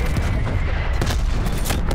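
Gunfire from a sniper-rifle match in Call of Duty Black Ops Cold War, a loud, dense wall of shots and booming blasts running without a break for the whole moment.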